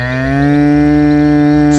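A single long, loud, close moo from cattle or water buffalo in a village yard, holding a steady low tone for nearly two seconds with no other sounds.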